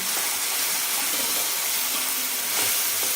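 Brinjal being sautéed in a pan for a spicy green-chilli bharit with tomato and garlic, giving a steady close hiss and sizzle that runs throughout, with a slight swell near the end.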